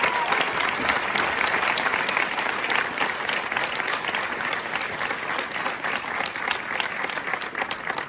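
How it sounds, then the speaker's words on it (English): An audience at an Army Ranger School graduation ceremony applauds the light infantry squad, a loud, dense and continuous roar of clapping with scattered sharp claps, sustained for the full length. "please give a round of applause for the light infantry squad"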